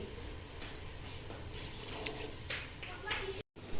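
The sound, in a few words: water poured into pot of roasted black chickpeas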